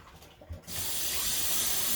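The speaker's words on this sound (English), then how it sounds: "So I dump this water out" Water from the reservoir of a Keurig coffee machine is poured into a sink after descaling, a quiet start giving way to a steady, hissing splash that runs to the end.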